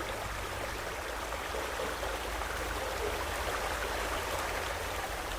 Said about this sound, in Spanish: reconocí el sonido del río y porque ese sonido se fue haciendo igual hasta traerme otra vez el sueño